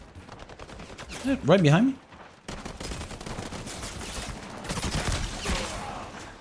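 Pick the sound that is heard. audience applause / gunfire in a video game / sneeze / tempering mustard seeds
gunfire in a video game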